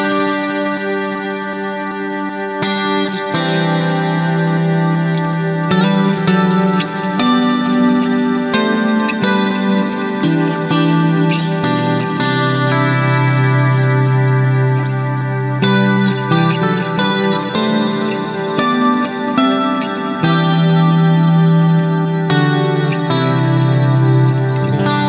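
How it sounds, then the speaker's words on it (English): Electric guitar through a Fractal Audio processor with a delay effect, sustained chords smeared into echoes that keep repeating over and over, loud and alone with a shimmering chorus-like wash. "It sounds much less like a pad and much more like a delay that's just repeating over and over."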